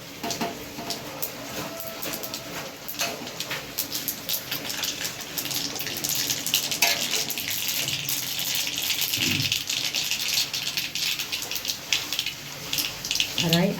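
Mustard seeds dropped into hot oil for a Kathiyawadi kadhi tempering crackle and sizzle steadily, with sharp popping bursts growing denser over several seconds, close and fairly loud with no talking.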